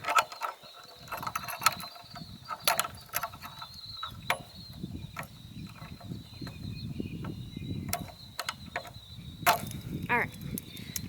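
Plastic and metal clothesline tensioner being unclipped from a line, a series of sharp clicks and ratcheting snaps scattered over a low rumbling background, close and fairly quiet.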